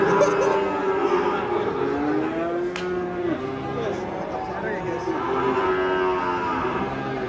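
A large cattle mooing repeatedly amid a busy outdoor crowd after escaping from a truck, long low calls overlapping with chatter and background noise.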